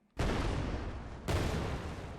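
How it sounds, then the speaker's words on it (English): Explosion sound effect triggered during a game engine test, two sudden loud blasts about a second apart, each followed by a rumbling decay that fills the clip. "our explosion is now at 0, 0, 0, which is on the other side of that wall"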